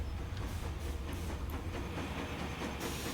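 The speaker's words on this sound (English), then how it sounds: "New train is coming out of there." Steam locomotive rolling out of the depot in the Transport Fever 2 game, a steady low rumble with soft hiss and faint clanks running throughout.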